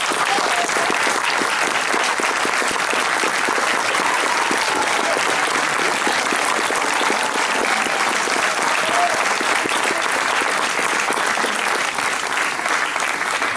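A theatre audience claps loudly and continuously for the performers, a thick, even wash of many hands that holds steady throughout with faint crowd murmur beneath.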